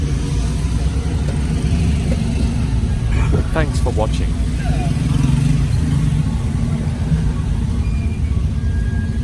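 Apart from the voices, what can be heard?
road traffic, car engines in a market street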